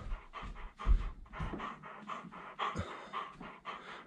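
A dog pants in quick, steady rhythmic breaths inside a children's phone game, close and clear with no talking over it.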